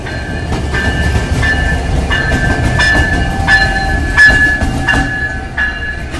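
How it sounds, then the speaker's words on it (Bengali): Railway locomotive 6640 rolls past at Parbatipur junction, loud and close, with a heavy engine rumble, rhythmic wheel clatter and a steady tonal whine. "এটা 6640। হাই হাই, আরে বাপের লোকোমোটিভ পাইছি"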